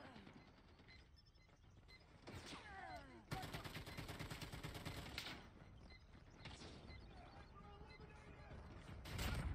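A light machine gun fires in Call of Duty Mobile in quick rattling bursts of varying length, fairly faint, with clicking weapon mechanisms and other game noise between the bursts.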